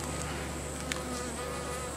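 Honey bees hum steadily in an open hive during an inspection, a dense continuous buzz close by with one brief louder pass of a single bee.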